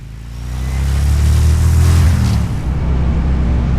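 Harley-Davidson Road Glide with 26-inch wheel riding along, its engine a loud steady low rumble that swells then settles, mixed with wind rush.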